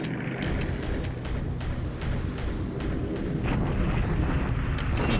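Continuous rumbling blasts and low booms from bombing in a World War II naval strategy video game, steady and dense, with sharp cracks scattered throughout.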